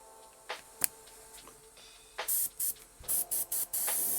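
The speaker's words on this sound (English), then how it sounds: "I'm gonna kick on my airbrush" A Paasche Talon TG airbrush fed by a compressor gives a few short, faint clicks and puffs, then several loud bursts of hissing spray in a quick on-off rhythm, ending in a steady blast.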